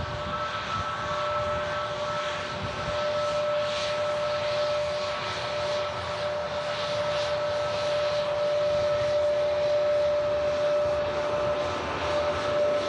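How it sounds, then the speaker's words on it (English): An Air Transat Airbus A321neo airliner runs its engines at an airport, a continuous loud whine with a steady high tone over broad rumbling noise, unchanging throughout. "Wow, this is out early. Air Transat 321neo."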